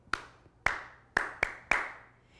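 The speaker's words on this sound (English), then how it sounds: "She clapped the calm down rhythm." Five sharp hand claps in a steady calm-down rhythm with a short pause before the fourth, close and crisp in an otherwise quiet room, each clap ringing out briefly.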